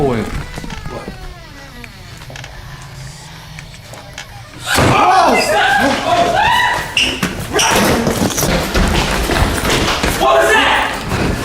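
A door in a dark hallway slams shut on its own with a sudden loud thud, followed by frightened voices talking over each other and scuffling movement.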